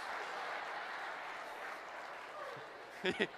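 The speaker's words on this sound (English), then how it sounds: "That round of applause is important" An audience at a creativity talk fills the room with a sustained wash of applause at moderate distance, a few voices sounding briefly near the end.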